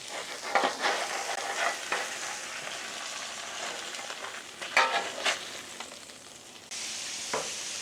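Beef slider patties sizzling on a flat-top griddle and flipped with a pizza peel, a close steady sizzle broken by a few sharp scraping and clattering bursts from the flipping.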